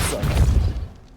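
Depulso spell cast in Hogwarts Legacy: a single short, heavy booming thud with a crashing burst, peaking quickly and dying away within about a second.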